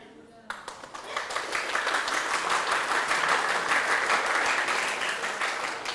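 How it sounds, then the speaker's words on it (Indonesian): An audience at an open mic stand-up comedy show breaks into steady, dense applause that swells after a sharp start and holds loud and full for several seconds, with no voice over it. "Kalau ada yang belum minta tepuk tangannya"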